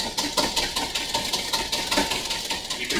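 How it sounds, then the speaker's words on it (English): A whisk beats egg yolks in a bowl for hollandaise sauce, a quick, steady run of close metallic clicks and scrapes that continues without pause. "So I'm going to start out by whisking."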